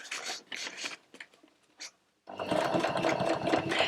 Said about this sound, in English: Sewing on both sides from the lining towards the exterior fabric.